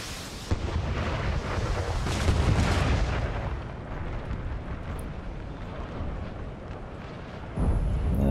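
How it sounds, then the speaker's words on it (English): Rocket and artillery volleys from a Napoleonic-era battle in Napoleon: Total War, a continuous rumbling barrage of booms and bursts that stays loud throughout, with a fresh heavy blast near the end. "There's the rockets."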